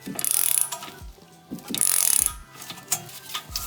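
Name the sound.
ratchet turning a bolt while installing Honda Civic control arms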